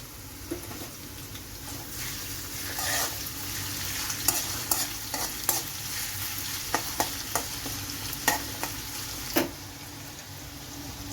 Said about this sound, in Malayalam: നമുക്കിതിലേക്ക് ചേർത്ത് കൊടുത്ത് ഇതൊന്ന് മൂത്ത് വരട്ടെ